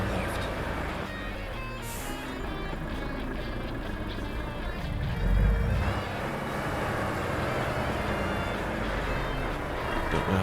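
A truck engine drones in Euro Truck Simulator 2 while the vehicle drives and turns: a steady low rumble runs throughout, swelling briefly midway, with broadband road noise layered above it.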